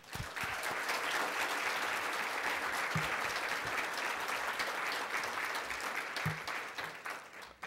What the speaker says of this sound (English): I want us to just start off by just giving our first inaugural class a great big hand clap.